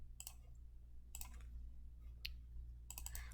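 Computer keyboard typing at a desk, a few faint, brief clusters of light key clicks spaced apart over a steady low hum.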